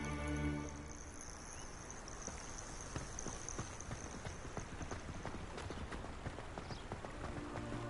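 Hippogriff hooves clopping in the Hogwarts Legacy video game, a steady run of close, crisp hoofbeats over a soft outdoor ambience.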